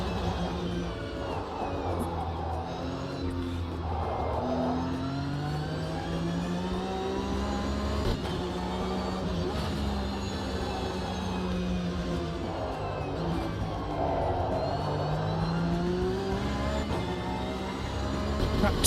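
Race car engine in a sim racing game, droning steadily with rising and falling pitch as it revs through corners and straights, continuous and fairly loud for the whole stretch, with no talk over it.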